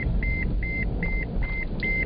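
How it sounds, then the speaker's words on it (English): Repeated electronic beeps inside a taxi, six steady evenly spaced tones over a constant low engine and road rumble. "sorry about the beeps"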